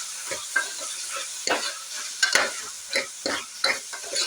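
Potatoes and tomatoes fry in a pan under a constant soft sizzle, while a spoon stirs and scrapes through them in irregular close strokes.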